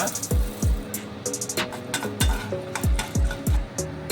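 Peanuts, chana dal and urad dal fry in a kadai. A spatula scrapes and clinks against the pan in repeated stirring strokes over a soft sizzle, close and loud.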